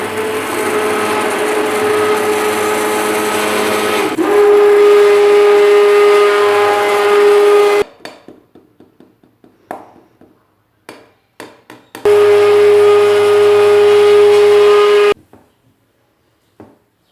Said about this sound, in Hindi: हमने अपने इस हैंड ब्लेंडर के जरिए या विस्क के जरिए इसको चलाते